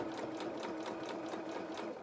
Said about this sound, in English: that will help it just then move round through your sewing machine